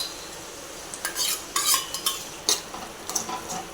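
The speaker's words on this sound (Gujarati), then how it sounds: "હવે ટમેટાને આપણે 2 મિનિટ સુધી સાંતળવાનું છે" Chopped tomato and browned onion sautéing in a pan, a utensil scraping and stirring in short irregular strokes over a faint, soft sizzle.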